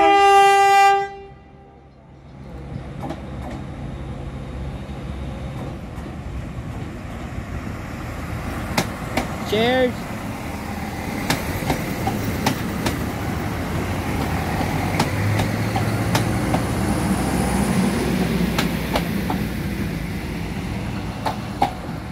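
NIR class 3000 diesel multiple unit, set 3021, departing Great Victoria Street station for Portadown: a horn blast at the start, then the rising rumble and clatter of the train pulling away, with a brief spoken word partway through.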